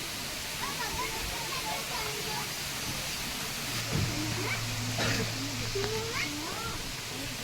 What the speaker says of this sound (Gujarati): કેવું સરસ પાણીનો અવાજ આવે છે